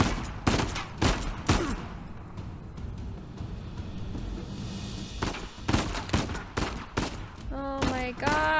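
Gunfire in the video game Uncharted 4: a few sharp shots early, a lull, then another cluster of shots, with game ambience between and a short voice at the end.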